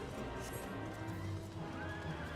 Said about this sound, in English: I guess we're taking the horse.